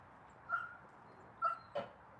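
A few short, high whimpers from a puppy, three brief cries spaced apart over quiet background.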